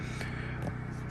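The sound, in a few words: generator running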